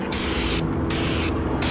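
Spray paint coating a car mirror in short, loud, close bursts, three hissing passes of the aerosol can separated by brief gaps.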